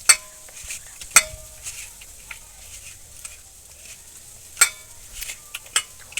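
Hands mix chicken kebab marinade in a bowl, with soft wet squelching and stirring under sharp clicks and clinks of a utensil against the dish; the sounds are close and intermittent, with no talk.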